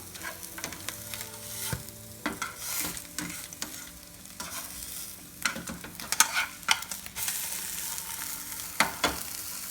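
An egg fries in a pan on low heat with a steady sizzle, broken by repeated scraping and stirring sounds from a utensil, close and fairly clear, with no talking.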